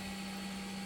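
A 3D printer loaded with flexible TPU filament runs with a steady, faint mechanical whir and a constant low hum, with no voices.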